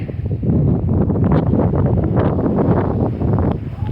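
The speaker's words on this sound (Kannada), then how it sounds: "ಸಖತ್ ಗಾಳಿ ಇದೆ" Strong wind on Nandi Hills, a rocky hilltop, buffets the microphone in steady, roaring gusts, with a dense low rumble that barely lets up.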